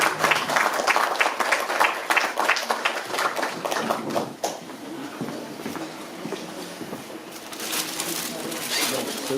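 Dense clapping from a crowd fills the first half, then thins into scattered claps and murmuring before swelling again near the end, at a town hall New Year reception for municipal staff.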